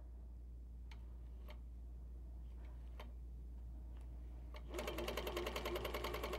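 An HQ Pro-Stitcher computerized quilting machine running at 50% speed stitches a small tie-off, faint ticks at first, then a steady rapid mechanical chatter starting partway through, close and with no talking.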